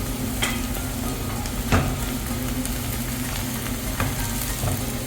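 Crushed dried red chilli and cumin frying in a pan for brinjal moju, a continuous close sizzle with occasional scraping strokes of a stirring spoon, loud and steady throughout with no talk.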